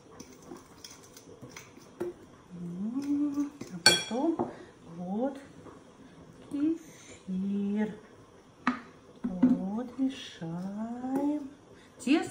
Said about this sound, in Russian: хорошо перемешиваем, чтобы комочков не было